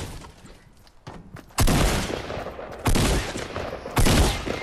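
Heavy bursts of gunfire in the Fortnite video game, with three loud sustained volleys in quick succession after a quieter stretch of scattered shots.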